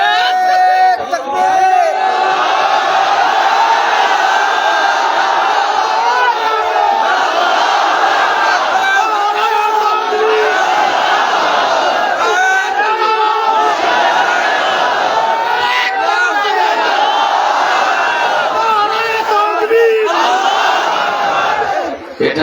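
A large crowd at an outdoor religious gathering shouts takbir together, a loud, sustained wall of massed voices rising and falling in waves for over twenty seconds.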